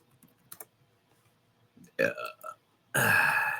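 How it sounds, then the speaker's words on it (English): A loud, drawn-out burp follows a few quiet clicks and a short voiced sound, and it ends the moment abruptly. "Here's your burp for the day."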